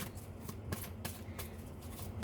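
Tarot cards are shuffled and drawn by hand in quiet, soft riffling flicks with a few sharper snaps, over a low steady hum.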